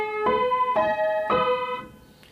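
A piano plays three struck chords from the opening of a song, each ringing briefly before the next, close and moderately loud, with a fading tail.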